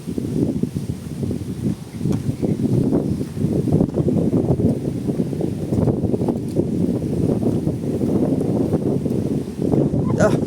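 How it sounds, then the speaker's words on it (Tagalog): Strong wind buffets and roars across the microphone in heavy, uneven gusts, with a faint rustle underneath. "Ano na itong hangin na ito?"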